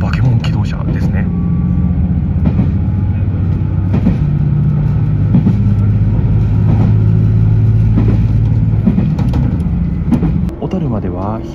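A diesel railcar accelerating hard on a non-electrified line, its engine roar steady and loud throughout with rising tonal drone, while a person talks over it.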